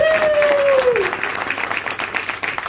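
Audience clapping steadily through a gathering at a real estate training and coaching camp, with a voice speaking briefly over the applause at the start.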